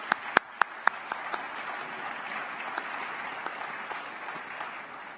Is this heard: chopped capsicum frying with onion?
no